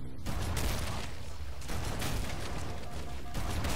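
Shotgun fire in the Halo: Anniversary video game, a dense continuous barrage of blasts and gunfire filling the whole stretch, loud and close.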